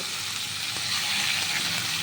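Small mourola fish frying in oil in a kadai, giving a steady, close, dense sizzle that stays even throughout, with no talking.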